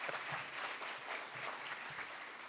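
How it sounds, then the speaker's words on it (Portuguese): An audience at a professional networking event gives a speaker a short round of applause, moderately distant and fairly quiet, even clapping with no speech over it. "Vou dar um aplauso para ele."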